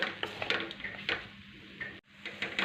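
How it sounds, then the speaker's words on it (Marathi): Coconut and jaggery modak filling stirred and sautéed in a pan, with repeated scraping strokes and light clinks of a utensil at an irregular rhythm, near and moderately loud, with one brief pause. "आता असंच मी तीन चार मिनटं आहे ना एकसारखं हलवत परतून घेणार आहे"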